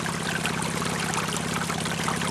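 Water pours steadily over Gold Hog Razorback sluice matting as stream gravel runs through, a continuous close rushing and trickling flow with no voices.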